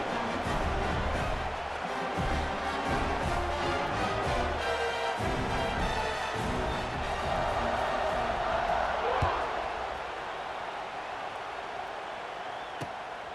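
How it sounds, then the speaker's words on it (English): Stadium crowd in EA Sports College Football 26 cheers with a loud, sustained roar and scattered shouts and claps, swelling and easing slightly, while commentary voices talk over it. "this crowd is buzzing after that last score"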